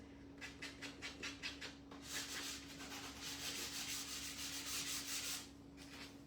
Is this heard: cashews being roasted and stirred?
no